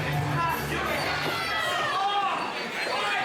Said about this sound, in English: you hear the crowd reactions